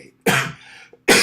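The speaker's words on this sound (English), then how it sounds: "This cough has been crazy." Two sharp coughs from a man, the first a heavy, throaty burst with a trailing rasp and the second cut short, close and loud with a brief gap between them.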